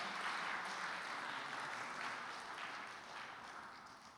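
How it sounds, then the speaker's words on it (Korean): Congregation at a Korean church service applauding in thanks, a dense, steady wash of clapping that holds for about four seconds and fades slightly toward the end, with no voices. "감사의 박수 한번 다시 보내주십시오"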